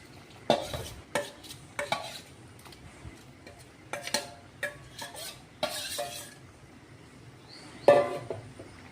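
Mushrooms stirred into a boiling mushroom gravy in a pot, with a series of scraping, clinking utensil strokes at irregular intervals over a low bubbling background, close and moderately loud.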